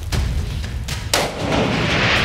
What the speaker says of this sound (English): Unfortunately, she also misses all three shots.